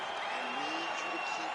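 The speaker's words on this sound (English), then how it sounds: "the crowd voicing its appreciation after that round" Crowd cheering and applauding after a round in the EA Sports UFC 5 video game, a steady, moderately loud wash of arena crowd noise with no talk over it.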